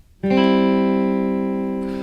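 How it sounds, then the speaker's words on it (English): A single bright guitar chord, a one-finger C strummed on the top three strings, rings out clearly and sustains, slowly fading, alone with no talking. "I'm only strumming through the top 3 strings for all of these chords"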